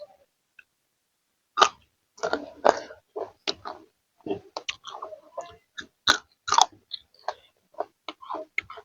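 Crispy fried pork tail eaten with spicy som tam is chewed close to the mic, giving loud, irregular crunches and bites after a brief quiet opening. No one speaks.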